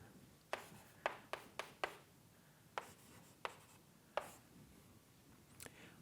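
Chalk or marker strokes on a board during a probability lecture, a series of sharp scratchy taps in quick bursts with short pauses between them, close and fairly quiet in an otherwise still room.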